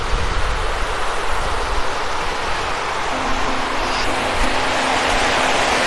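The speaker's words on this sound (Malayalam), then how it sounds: "അപ്പോൾ ഇതിൻ്റെ അടിയിൽ കൂടെയാണ് വെള്ളം ഇങ്ങനെ പോകുന്നത്" Water rushes steadily beneath the tall, pillared Chaliyakkara aqueduct near Punalur, a continuous, fairly loud broadband roar of flow with no voices.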